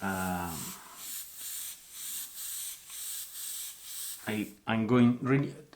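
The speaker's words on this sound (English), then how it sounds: "The area I'm spraying is really large" A steady run of short, pulsing spray hisses of Dr. Ph. Martin's Bombay watercolor ink being sprayed repeats in a rhythmic train for a few seconds, framed by a person talking before and after.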